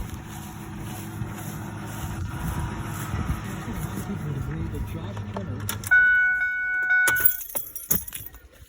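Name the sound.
truck engine being switched off with keys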